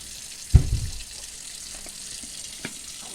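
Tap water splashing onto raw oxtail pieces in a kitchen during Jamaican cooking prep, one sharp close splash followed by a brief trickle, then a quieter stretch with a faint later drip.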